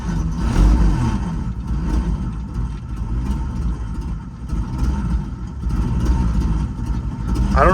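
An old Chevy C10 truck, left sitting for decades, idles steadily just after its first start, a low continuous engine rumble with some surrounding noise and no clear speech.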